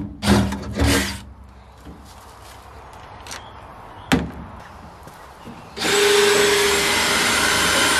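A drill bit bores through thin metal on a service truck, a loud, steady whirring grind that starts after a few sharp knocks and clunks of handling nearby.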